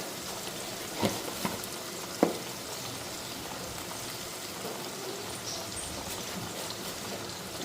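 Chili, cumin and coriander powder frying in a pan make a faint, steady sizzle, with a few sharp pops and clicks near the start and no talking.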